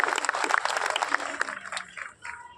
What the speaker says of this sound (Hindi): ताली बजाकर स्वागत करें इनका।